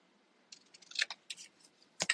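Scissors snip through a piece of paper as a craft tag is trimmed, a quick series of close, crisp cuts with short pauses between them, ending in a final louder snip, with no talking.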